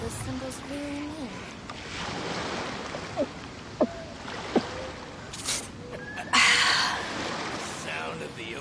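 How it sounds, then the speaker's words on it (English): Ocean waves in the Genshin Impact video game, a steady rushing wash of surf with a louder surge near the end, mixed with short game tones and effects and some in-game voice. "Sound of the ocean waves."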